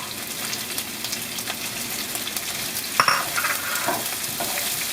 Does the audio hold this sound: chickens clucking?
no